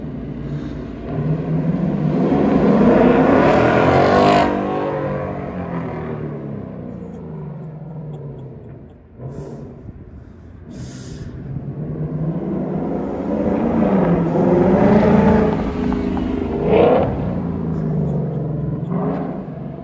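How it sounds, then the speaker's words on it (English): A 2024 Mustang GT V8 with an MBRP X-pipe exhaust in track mode revs and roars, rising and falling in long deep pulls with a sharp bark mid-way, loud and close, with no talking. "That MBRP X-Pipe sounds insanely good on that Mustang."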